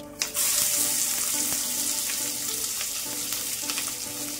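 Peanuts and onion fry in hot oil with cumin, a loud steady sizzle starting abruptly and holding for several seconds with faint stirring clinks and a low background hum.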